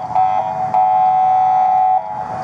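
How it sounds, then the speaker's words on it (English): A vehicle horn beeps in street traffic, with a brief toot followed by a longer, steady held blast lasting over a second, loud and fairly near against a low traffic rumble. "I got you beeping that horn, Jeremy."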